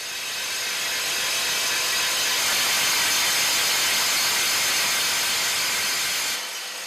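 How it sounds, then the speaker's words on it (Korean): A huge drilling machine bores holes into a jade rock wall in a Chungju jade mine, giving a loud, steady, hissing roar that runs on unbroken before it cuts off near the end. "깨질세라 온 신경을 집중해 거대한 천공기로 옥벽에 구멍을 뚫습니다."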